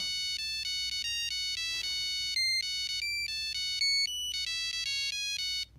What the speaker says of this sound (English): I've also got Axel F on here, but I didn't really put the notes in very right. It doesn't sound very good